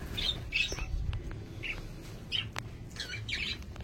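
Caged birds at a bird market squawk and chirp in quick, overlapping bursts, close by, over a steady low rumble of background noise.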